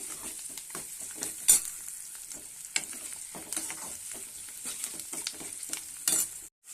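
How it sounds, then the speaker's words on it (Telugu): Onions frying in oil with salt and turmeric, a steady soft sizzle with scattered scrapes and taps of a stirring utensil, close and moderately quiet, with no talking. "ఉప్పు పసుపు వేసుకొని కొంచెం వేయించుకోవాలి"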